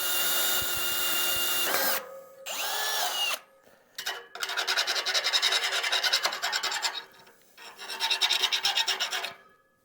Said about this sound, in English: We'll go ahead, drill the other side, and see how this lines up.